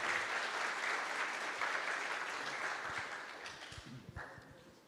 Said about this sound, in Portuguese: Eu acredito que uma salva de palmas seja pertinente para esse momento.